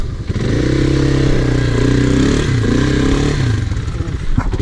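Kymco quad engine from the Maxxer 250/300 range revving steadily, a loud, sustained close-up drone with wavering pitch and some clattering toward the end, no talk.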